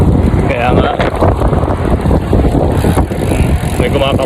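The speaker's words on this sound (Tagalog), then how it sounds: "Lakas ng hangin." Strong wind roars across the microphone throughout a ride, a steady loud rush that blankets everything, with voices talking over it.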